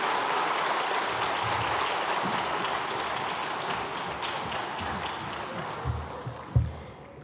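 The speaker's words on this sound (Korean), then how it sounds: "두 분 반갑게 인사하실 때 기쁨으로 격려로 인사하고 박수하겠습니다." A church congregation at a Sunday worship service applauds with sustained, dense clapping that gradually fades toward the end, with a few louder thumps near the close.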